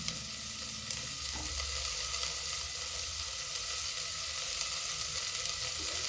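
Chopped onion frying in a pan gives a steady, even hiss of sizzling oil, close and continuous, with a faint clink or two of a utensil and no talk.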